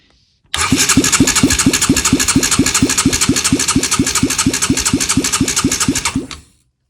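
A shifter kart engine cranks over with a rapid, even chugging rhythm, loud and close, running steadily for about six seconds before cutting off.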